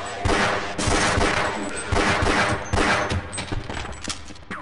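Rapid, loud gunfire from the video game Half-Life, repeated shots in dense bursts that run almost without a break.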